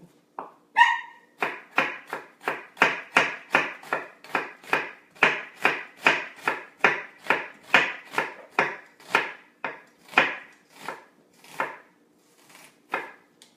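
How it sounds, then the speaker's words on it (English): A knife thinly slices an onion on a cutting board for guacamole, with about two dozen crisp, evenly paced chops, close and clear with no talking. "we're going to start off by thinly slicing the onion first"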